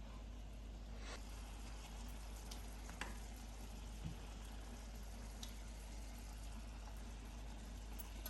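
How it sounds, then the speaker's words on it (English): Swedish meatballs cooking in a pan with heavy cream, a soft steady sizzling hiss over a low constant hum, with a few faint clicks and scrapes, no talking. "The meatballs back in so they finish cooking."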